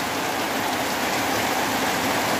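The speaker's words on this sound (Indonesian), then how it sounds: "Nggak gelap, tapi cukup deras hujannya" Heavy rain pours down steadily outdoors while a worker waits it out, a dense, loud hiss of drops hitting surfaces with no letup and no voices over it.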